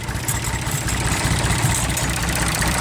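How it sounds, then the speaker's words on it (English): A diesel engine on an International Harvester 484 tractor idles steadily with a low, rumbling, even chug, close and loud throughout, with no voices. "We're going to do some mechanical diesel engine troubleshooting."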